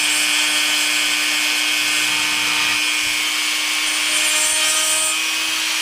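A low-speed rotary tool grinds against the wooden body of a banjo being carved, a loud, steady whine with a constant hum and rubbing texture throughout.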